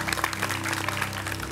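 Studio audience on the Əlaçı quiz show applauds a departing contestant: a dense, steady patter of clapping runs throughout over a sustained low tonal hum.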